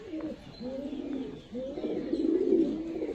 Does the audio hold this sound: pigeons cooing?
yes